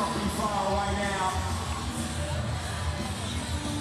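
Crowd at a CrossFit regional competition, a steady broad murmur of many voices filling the venue, with faint cheering mixed in throughout.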